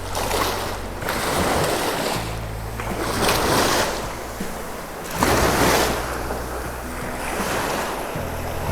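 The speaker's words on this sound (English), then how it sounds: "that water's just barreling in to Deception Pass" Tidal water rushes and surges into Deception Pass in repeated swells, heavy and close, with wind buffeting the microphone.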